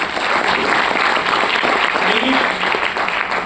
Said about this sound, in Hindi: तो ऐसी सभी संस्थाओं के लिए भी एक जोरदार ताली होनी चाहिए